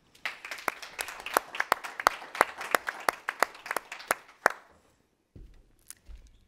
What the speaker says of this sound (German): Einen großen Applaus für Markus Bettler.